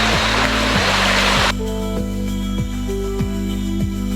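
Flowing water at the Tago Falls wading area: a broad, steady rush dominates the first second and a half, then drops to a softer wash under a regular low mechanical thumping.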